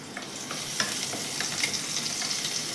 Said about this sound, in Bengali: তেলেতে একটু রসুনকে থেতো করে দিয়ে দিলাম